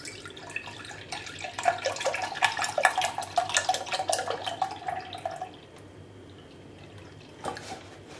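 Milk pours into baobab juice in a liquid, gurgling stream that builds and bubbles for several seconds, then stops, followed by a faint splash.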